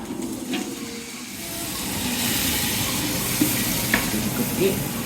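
Biryani masala with tomato sizzles in a hot pan under a steady stir, a continuous hiss and scrape with the odd clink of the spoon, close and fairly loud.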